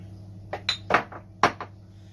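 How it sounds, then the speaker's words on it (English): Metal pan being set down on a stove for a prawn stir-fry, a few distinct clanks and clinks spread over two seconds with a steady low hum underneath, no talking. "So first, I need to heat a pan, put in some oil."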